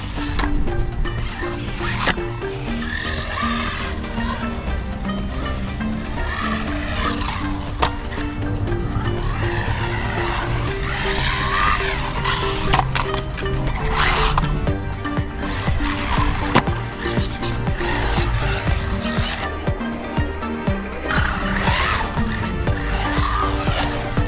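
Rlaarlo 006 RC buggy tearing around a skate park during durability testing, its electric motor whining loud and continuous with rising and falling revs, wheel scrabbles and occasional thuds from hard landings, no talking.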